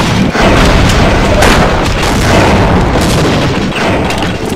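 Pipe bomb blasts in the video game Team Fortress Classic, used for a demoman jump, make a loud, dense roar of booming explosions that rolls on continuously for several seconds.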